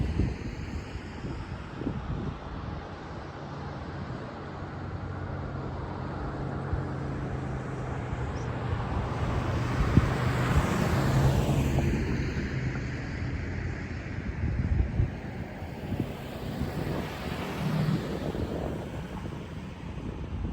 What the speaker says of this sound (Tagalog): malamig na yung simoy ng hangin